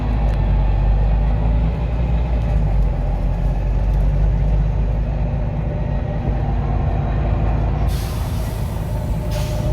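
Steady low rumble and road noise heard from the lower deck of a Go North East Volvo B9TL Wright Eclipse Gemini 2 double-decker bus on the move, loud and continuous with no talking.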